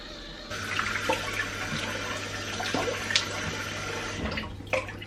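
Running tap water pours steadily into a sink while cold water is splashed onto a face after a workout, a continuous hiss punctuated by a few brief splashes near the end.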